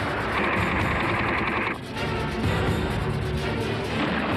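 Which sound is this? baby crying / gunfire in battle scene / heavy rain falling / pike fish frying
gunfire in battle scene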